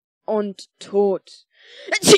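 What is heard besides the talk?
sneeze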